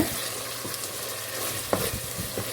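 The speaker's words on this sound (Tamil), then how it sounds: "தயிர் சேர்த்துட்டு நல்லா மிக்ஸ் பண்ணி விட்டுக்கோங்க." A spoon stirs curd into sautéed vegetables for pulao in a hot pan, producing a steady sizzle broken by a few scraping stirs, close and without speech.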